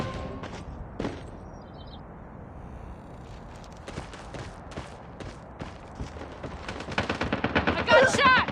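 Gunfire in a video game gun fight: scattered single shots and thuds that build into dense rapid automatic bursts toward the end, with game voices calling out over the action.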